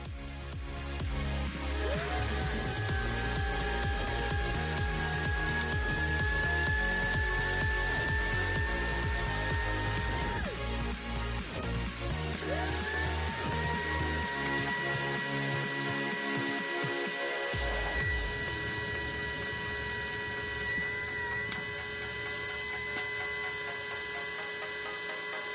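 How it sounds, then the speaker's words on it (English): A small electric drill bores holes in a Darth Vader TIE fighter model kit. The motor whines steadily in several long runs with brief pauses between them, quiet and close, with no talking. "Now that I have these drilled out here"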